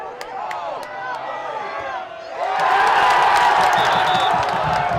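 Crowd at a women's college soccer match, RPI against Plattsburgh State, cheering and whooping; a murmur of voices swells suddenly partway through into loud, sustained cheering with scattered claps and shouts.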